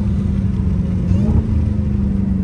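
Dodge Hellcat Redeye supercharged engine pulling hard from the driver's seat, a steady droning engine note with a faint whine riding over it, loud and continuous.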